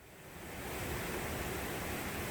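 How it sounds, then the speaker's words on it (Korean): Rushing stream water pours steadily through a stone-walled valley water playground, a loud, continuous broadband wash that swells in the first half-second and then holds even, with no voices over it. "물소리가 장난이 아니죠?"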